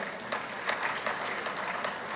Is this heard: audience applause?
yes